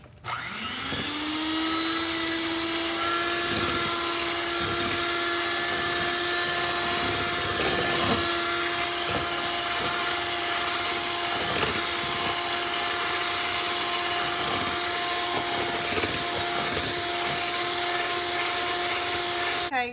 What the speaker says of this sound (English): now we're just going to blend our heavy cream and sugar together.